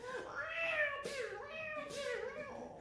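A cat meows several times in a row, drawn-out and plaintive, each call rising then falling, heard close and fairly quiet with no other sounds.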